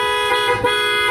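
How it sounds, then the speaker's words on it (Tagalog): A car horn blares in a single long, loud, steady honk that dips briefly partway through, sounding while the engine runs and the MDL lights are switched on. "nagngongongo na yung busina"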